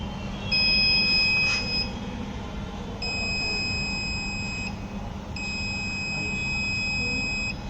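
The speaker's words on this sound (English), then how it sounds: "then automatically the buzzer will be indicated within the vicinity of the obstacles detection" A collision-detection buzzer on an obstacle sensor sounds in repeated long electronic tones, roughly two-second beeps with short gaps, steady and fairly loud over a low background hum.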